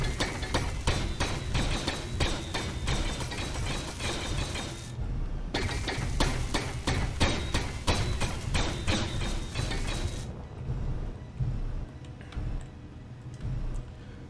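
Block welding in Space Engineers on a small-grid build, a fast, loud train of repeated crackling clicks that stops briefly, resumes, then gives way to quieter scattered ticks.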